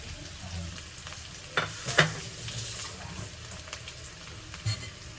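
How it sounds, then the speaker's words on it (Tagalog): Garlic toasts and sizzles in a pan, a steady close frying hiss broken by a few sharp scrapes of stirring, with no talking. "So ito-toasted lang natin itong bawang."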